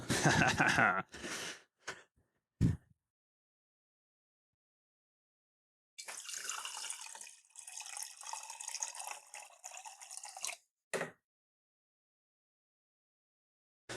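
Water runs from a tap into a vessel, a soft hiss with faint rising tones, between scattered louder bursts of handling noise and quiet gaps.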